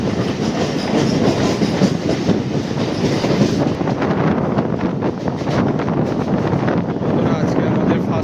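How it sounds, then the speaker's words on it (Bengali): A local train pulls out of Sealdah station in the morning, its loud continuous rumble and clickety-clack of carriage wheels filling the whole stretch, with wind buffeting the microphone throughout. "ট্রেনটা আমাদের 3 মিনিট লেটে ছাড়লো শিয়ালদা থেকে"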